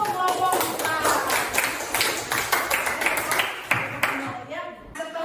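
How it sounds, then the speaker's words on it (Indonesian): A classroom group claps for a student team after their presentation, a dense burst of close applause that thins out and fades near the end. "Tepuk tangan dulu untuk kelompok 4."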